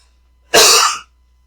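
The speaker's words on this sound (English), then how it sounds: "It's just when I talk, I start coughing." A single harsh cough from a nearby person, short and loud, standing alone against a quiet room background.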